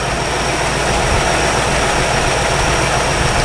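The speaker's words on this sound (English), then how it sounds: "Quieted down now that it's warmed up. See if we can pop it down to slow idle." A 1962 Chevy engine, warmed up after sitting parked for 35 years, idles steadily with a low, even rumble, loud and continuous throughout with no voices.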